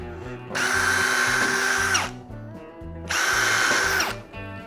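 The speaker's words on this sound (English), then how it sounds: "I'm just gonna drill a couple little pilot holes here" A power drill whirs loudly drilling pilot holes in wood, in two sustained bursts of about one and a half seconds each, with a short pause between them.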